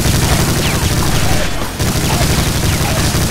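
Brutal Doom Gatling gun firing in a dense, continuous rattling burst of rapid shots, loud and close, with a brief dip midway before the barrage resumes.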